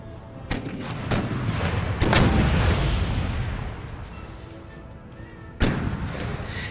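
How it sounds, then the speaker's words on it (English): Artillery cannons firing canister shot in a video game battle: sharp booming blasts at about 0.5, 2 and 5.6 seconds, each trailing into a long rumbling decay, with faint battlefield noise between them and no talk. "I think what happens with these regular artillery units is they'll keep using their canister shot even when the enemy is out of range."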